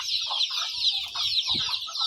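Desi country chickens, home-bred native birds on a small farm, cluck in short repeated bursts close by, over a constant high-pitched background of insects or chirping chicks.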